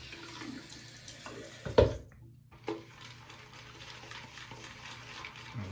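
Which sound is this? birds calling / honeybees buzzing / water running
water running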